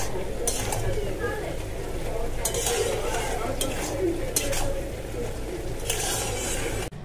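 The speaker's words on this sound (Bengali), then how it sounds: "উচ্ছে ভাজার কড়ার মধ্যেই তেল দিয়ে শুকনো লঙ্কা, তারপরে রসুন আর পেঁয়াজ কুচি দিয়ে আমি লাল শাকটা বসিয়ে দিয়েছি।" Red spinach frying in a wok with oil, dried chilli, garlic and chopped onion, a steady close sizzle with scraping and stirring clinks throughout.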